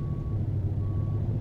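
Reversing beeps from a Kenworth W900 truck in American Truck Simulator, two evenly spaced electronic tones over a low steady engine rumble, close and clear with no talking.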